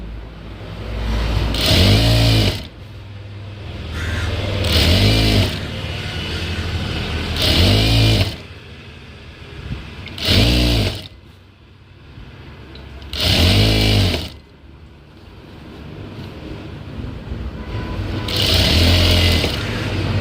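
A sewing machine stitches down a small folded hem, running in five loud bursts of a few seconds each with brief pauses between them and no talk.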